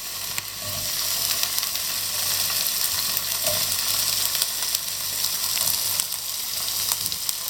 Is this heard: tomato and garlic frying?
yes